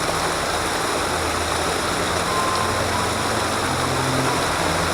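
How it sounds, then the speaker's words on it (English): A small waterfall at Northwest Bay in early spring rushes in a loud, continuous broadband roar with no breaks, close by and with no voices. "Alright, so I'm set up for this funky little waterfall here."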